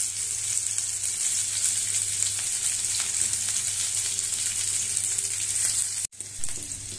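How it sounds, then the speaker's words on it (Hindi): Onions and green chilies fry in hot oil in a pan, giving a steady, close, loud sizzle that carries on evenly with only a brief dip near the end. "प्याज लाल हो गया है"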